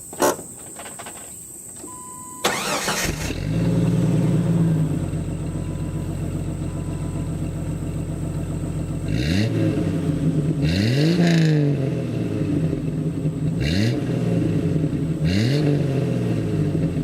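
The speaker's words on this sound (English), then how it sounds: "So I could set you guys down right here and start it up. It's gonna be a warm start." A 1998 Jeep Wrangler TJ with an MBRP exhaust cranks and fires up from a warm start, settles into a deep rumbling idle, then is revved sharply four times in separate bursts, close and loud.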